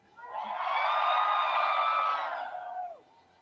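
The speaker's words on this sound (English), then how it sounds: "Wow, what an incredible crowd." A crowd at a political rally in Greeley swells into a cheer with whoops and shouts, building quickly, holding for a couple of seconds, then fading out.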